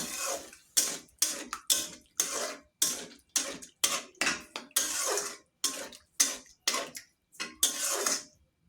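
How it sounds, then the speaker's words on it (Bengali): A spoon scrapes and knocks repeatedly inside a cooking pot, stirring pabda fish with spices and a little gravy, in a steady series of close, sharp metallic strokes with brief pauses between them. "মশলা দিয়ে ভালোভাবে নাড়াচাড়া করে নিই"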